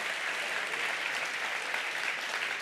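A crowd at a Geneva sports awards night gives an athlete a dense, sustained round of applause, steady and loud throughout.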